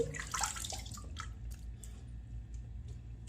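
Dirty shaving water full of soap and hair being poured out into a basin, with splashing and dripping at the start that fades into scattered faint drips, quiet and close.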